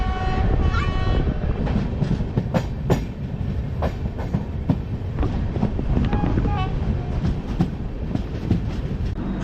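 The 12369 Howrah–Haridwar Kumbh Express pulls out of Chittaranjan station with a loud, steady rumble of wheels and coaches, repeated clicking over rail joints, a horn blast, and wind buffeting the microphone.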